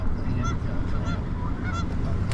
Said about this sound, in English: Oh, look at all the geese.